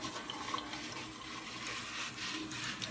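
Water runs steadily from a tap as a heavy bag of aquarium equipment is rinsed, giving a close, continuous hiss and splash with small irregular splatters.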